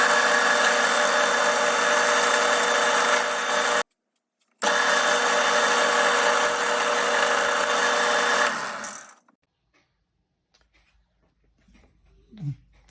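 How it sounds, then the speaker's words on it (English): A loud, steady power drill whines through metal, drilling a hole for a set screw, pausing briefly partway, then resuming before cutting off into near silence. "I'm going to drill it and install a set screw to keep it more firmly"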